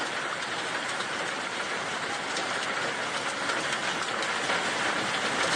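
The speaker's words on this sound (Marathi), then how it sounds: "मोठ्या प्रमाणात हा गारांचा पाऊस पडताना या ठिकाणी दिसतो" Hail pouring down during an unseasonal storm in Rajasthan, a dense, steady roar of impacts with a rattling texture, loud and unbroken for the whole stretch.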